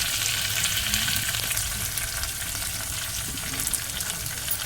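Tender curry leaf sprouts sizzle in hot oil with a dense, continuous, crackling hiss that holds at an even, fairly loud level throughout.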